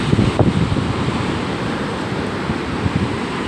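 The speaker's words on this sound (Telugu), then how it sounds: "ఆ అలలు చూడండి ఎంతవరకు వస్తున్నాయో." Sea waves wash up a beach on a rough-weather day, a steady broadband roar of surf mixed with wind buffeting the microphone, with a slightly stronger surge near the start and no talking.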